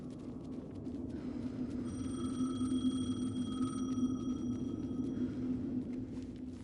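A telephone rings in the video game Alan Wake 2, a steady electronic ringing tone holding for several seconds over a low, rumbling ambient drone, with no voices.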